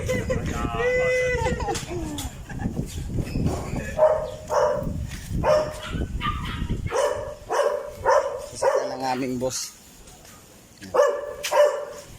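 A dog at a warehouse barks repeatedly in short bursts, with some yips and whimpers, close by, while someone talks over and between the barks.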